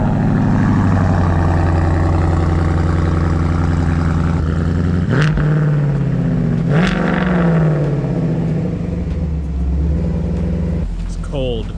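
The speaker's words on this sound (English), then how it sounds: "we gotta move the Mustang GT, so we're gonna get a cold start here" A Ford Mustang GT engine starts cold and settles into a loud, steady, rumbling idle, with a couple of sharp revs partway through, close by.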